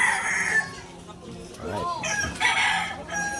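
A rooster crows once, briefly and at moderate distance, behind a street scene with background noise; someone speaks a single word nearby.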